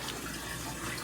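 Fresh water runs steadily through a newly drilled and plumbed 40-gallon reef-ready breeder aquarium, a constant close wash of splashing and trickling with no talking.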